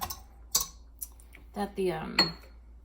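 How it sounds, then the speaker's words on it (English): A whisk clinks and taps in a bowl as eggs are beaten in a well of flour for cheese ravioli dough, with a few sharp scattered knocks and someone talking over them. "break your eggs up a little bit with a fork, or I'm using a whisk here"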